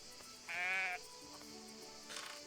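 Sheep bleating in the Everdream Valley farming game: one clear, fairly loud bleat near the start, with a fainter second bleat near the end over quiet background.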